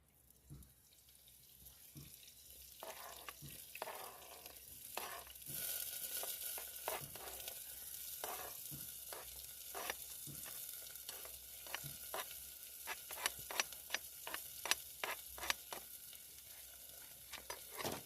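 Quiet, steady sizzling of onions and green pepper frying in oil, with scattered crackles and pops growing busier over time, heard up close without talk.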